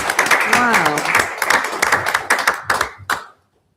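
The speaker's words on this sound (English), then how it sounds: "another round of applause" A council meeting audience bursts into a loud round of clapping in a meeting room, dense at first and then thinning into scattered claps before stopping abruptly, with voices and a whoop mixed in.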